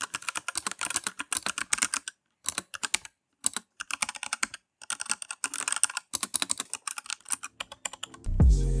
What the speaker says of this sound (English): I highly recommend the linear red switches for a quiet but satisfying typing sound